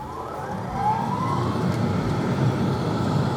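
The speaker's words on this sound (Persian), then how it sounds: "یه فن خیلی قوی داره، صداش کاملا واضحه" The strong cooling fan of a Coffee Tools coffee roasting machine runs with a steady, loud, broadband whoosh that fills the whole clip, with a faint wavering tone drifting through it.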